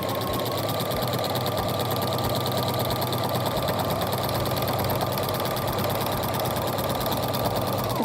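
A sewing machine with a walking foot quilts fabric continuously at a fast, even pace, its rapid mechanical whir and stitching chatter close up with no voices.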